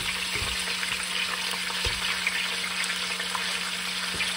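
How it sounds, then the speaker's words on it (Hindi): One and a half kilos of chicken legs frying with whole spices in onion oil, a dense steady sizzle close by with a low hum and a few faint stirring knocks, no one speaking. "अब इनको हम फ्राई करते हैं खड़े मसाले और अनियन ऑयल में"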